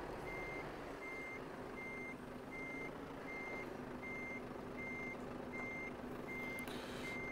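The reversing alarm of a truck in American Truck Simulator beeps in a steady, evenly spaced series of about ten tones, clear and moderately loud over a low, constant engine hum.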